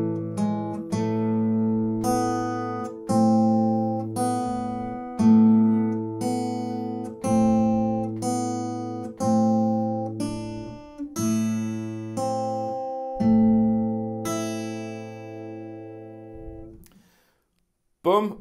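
An acoustic guitar plays the A-minor section of the Danish song "Solen er så rød, mor". Strummed chords ring out one after another in a steady rhythm, close and clear, and the last chord fades to near silence.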